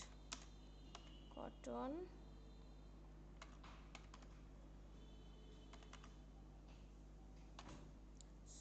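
Computer keyboard keys click in short, uneven bursts as a product description for a soft cotton T-shirt is typed, with a voice speaking briefly near the start over a low steady hum.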